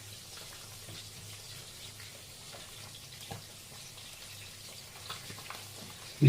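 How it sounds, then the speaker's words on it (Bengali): Five-spice seeds and dried chillies fry in fish oil, giving a faint, steady sizzle with small crackles, and a louder clatter right at the end. "5 ফোড়ন দিয়ে তেল ভাজা হচ্ছে, মানে ভাজা হয়ে গেছে, এবারে 5 ফোড়নটা দেওয়া হলো"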